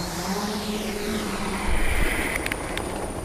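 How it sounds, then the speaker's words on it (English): A small camera helicopter flies over the African savanna at 20 to 30 meters, its rotor drone steady and fairly close with a low rumble, alone without talk. "we had this new bit of technology, this small helicopter, that we were able to deploy and take our cameras just 20, 30 meters above the ground"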